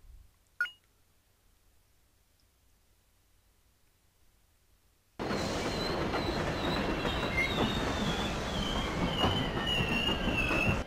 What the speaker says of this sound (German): Alles klar, wir haben den Zug genommen.